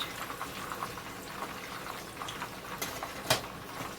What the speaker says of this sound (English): we're just going to keep mashing these and let them bubble and thicken up